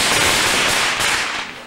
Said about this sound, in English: No, what firework was that one?